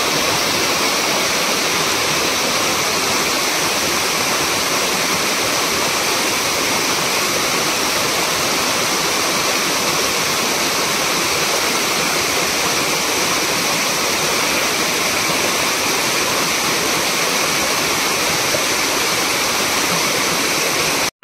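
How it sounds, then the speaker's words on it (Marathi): Steady, loud rush of a stream or small waterfall at dawn near crab traps set in the water, a dense, unbroken roar of flowing water with no voices over the whole stretch. "ओढ्याचा आवाज जास्त येतो"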